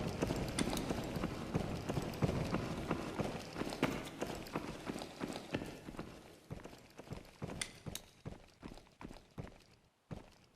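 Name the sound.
footsteps in a video game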